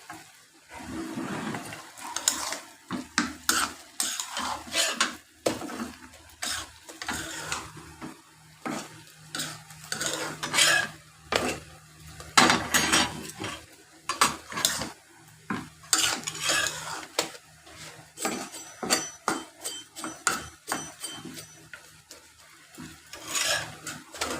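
A spatula stirs a mixed vegetable fry in a pan, making repeated close scraping and clinking strokes in an uneven rhythm over a soft sizzle, with no one talking.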